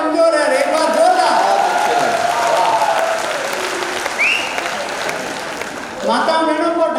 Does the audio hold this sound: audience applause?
yes